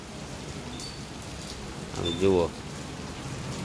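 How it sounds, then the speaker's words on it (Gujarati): Rain falls at night in Junagadh as a steady, moderate hiss of drops, with someone briefly speaking over it. "જૂનાગઢમાં વરસાદ ચાલુ થઈ ગયો છે"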